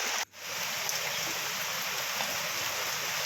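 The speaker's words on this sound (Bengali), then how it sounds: "এই দেখো তখনও কিন্তু হয়ে যাচ্ছিলো বাইরে ঝমঝমিয়ে বৃষ্টি" Heavy rain pours down outside in a dense, even hiss that continues for the whole stretch after a brief dip at the very start, with no voices.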